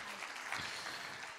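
Brief burst of audience applause for the singer, a dense wash of many hands clapping at steady loudness throughout, with a faint voice buried underneath.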